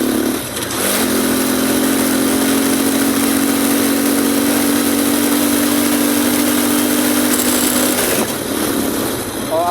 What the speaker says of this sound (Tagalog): Naghihirap na yung makina